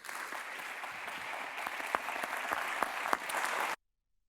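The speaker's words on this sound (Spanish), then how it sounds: "Vamos a darles un aplauso, agradeciéndoles muchísimo que nos hayan alegrado la mañana." An audience applauds to thank presenters at a session on digitalization best practices, dense steady clapping with a few sharper claps standing out, then cutting off abruptly to silence.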